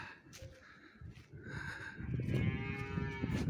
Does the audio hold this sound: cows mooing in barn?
yes